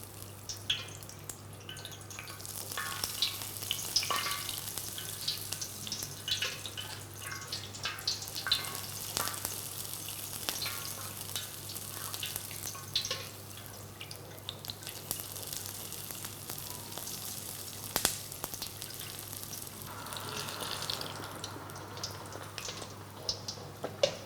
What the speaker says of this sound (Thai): เราก็จะทำการตักน้ำมัน ร้อนๆเนี่ยราดลงไปนะครับ